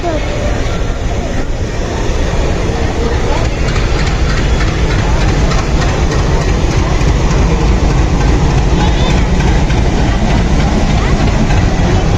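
A train engine at Durg railway station gives off a loud, continuous heavy rumble with rail clatter, unbroken and close for the whole stretch.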